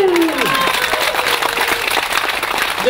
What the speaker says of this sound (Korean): 맞다고 생각하시는 분들은 박수!